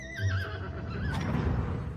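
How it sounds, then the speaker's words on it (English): A horse whinnies in a long, wavering neigh that rises and falls, close and fairly loud over a dense low background. "A majestic horse."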